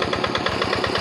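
A small tractor engine chugs in a rice paddy, a loud, close, steady rhythmic idle with quick regular pulses.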